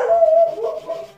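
Dogs howl close by in one brief, loud, wavering cry that drops into whimpering tones.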